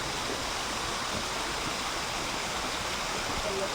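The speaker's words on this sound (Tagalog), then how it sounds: "Yung tubig Batis na nanggagaling po sa bundok na yon." A mountain-fed stream pouring down a rocky channel at a riverside bathing spot, making a dense, steady, loud rush like a small waterfall that stays even the whole time with no voices over it.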